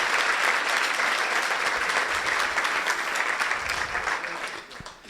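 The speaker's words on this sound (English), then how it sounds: "So please give a warm round of applause for all our sponsors." A room full of event guests applauds the sponsors in a warm, sustained round of clapping that stays full and steady before tapering off in the last second.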